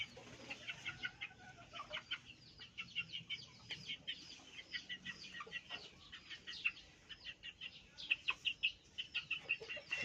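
A flock of young chickens from a Kinsyo-bred rooster cluck and peep steadily, a dense chorus of soft chirps and short calls, fairly close but quiet, with no talk over them.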